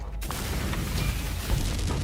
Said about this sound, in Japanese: なんかすげえ爆発音聞こえる